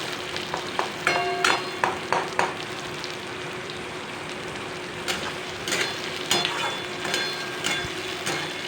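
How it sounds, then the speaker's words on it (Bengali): Pointed gourd and onions fry in a pan with a steady, close sizzle, broken by bursts of stirring scrapes and clatter at intervals. "এখন আমি এটিকে ফ্রাই করে নেব, ভালো করে লাল লাল মুচমুচে হয়ে যাবে"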